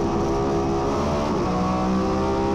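Porsche endurance race car engine roaring loudly and steadily from inside the cockpit, a dense continuous drone with shifting harmonic tones, no speech.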